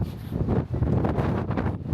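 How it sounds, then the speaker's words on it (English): Strong wind buffets the microphone outdoors near the Hoover Dam, a loud continuous roaring rumble that swells and dips for the whole stretch with no other sounds. "It's so windy, I don't know if you could hear me"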